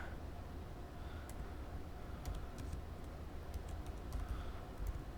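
Faint, scattered keystrokes on a computer keyboard as a name is typed, soft irregular clicks over a quiet room hum.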